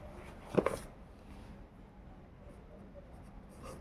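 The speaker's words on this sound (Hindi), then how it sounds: "लिखते सो कॉपी में।" A pen writes in a notebook during a math lesson, with a brief, quiet scratching of strokes near the start and then near-silence with faint traces.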